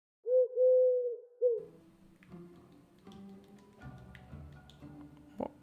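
A pigeon coos in The Inner World video game, with a clear, close, warbling call lasting about a second, then a shorter coo. Soft tapping and tonal game sounds follow, and no one talks.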